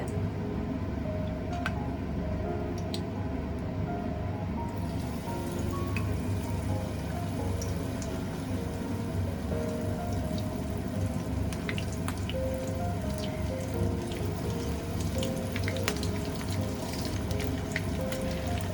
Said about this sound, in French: Je mets la pâte et fais tremper dans l'huile.